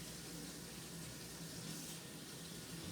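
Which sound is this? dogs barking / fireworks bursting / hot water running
hot water running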